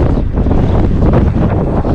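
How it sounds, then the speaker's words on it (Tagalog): Strong wind at the coast buffets the microphone in a constant loud, rumbling roar with no voices. "malakas yung hangin"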